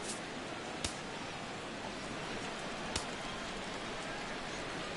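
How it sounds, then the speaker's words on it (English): Steady rain falls at an old baseball stadium during an Eastern League All-Star Game, a soft, constant wash of hiss with a couple of faint sharp ticks. "Rain continues to fall here in the 6th."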